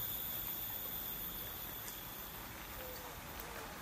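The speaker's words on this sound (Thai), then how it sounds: "หลังจากที่ฝนตกก็จะมีน้ำไหลไปตามซอกเขา แล้วก็ไหลไปตามริมถนนแบบนี้นะครับ" Rainwater running down from the forest along a mountain roadside, a faint, steady broadband wash of flowing water with no distinct splashes.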